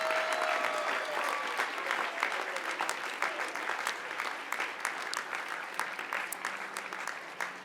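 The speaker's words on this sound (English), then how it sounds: "if you want to give them a shout out and some clap and some love" Graduates at a commencement ceremony clap in a large crowd, dense sustained applause that fills the space and tapers slightly toward the end.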